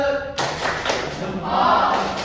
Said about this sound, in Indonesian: Tepuk salut untuk dia. Tepuk salut.